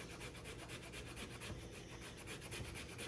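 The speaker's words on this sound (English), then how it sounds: "So I'm just going to use my microplane grater." Fresh ginger rubbed against a microplane grater gives a steady, close scraping rasp in quick repeated strokes, fairly quiet and alone.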